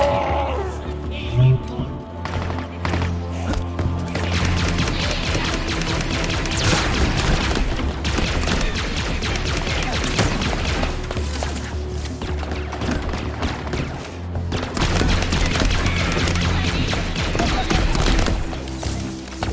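Gunfire in Halo Infinite, dense and continuous, with loud repeated bursts and thuds over a busy game soundtrack for the whole stretch.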